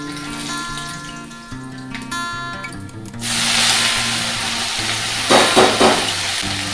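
Leafy greens hit hot oil in a pan, a loud, bright sizzle that takes over after a few seconds of humming background, with short stirring scrapes and crackles near the end.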